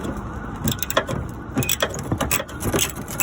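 A ratchet loosening a fog light housing bolt on a Cadillac DTS, giving close, steady clicking and grinding turns with metallic rattles and a faint background hum.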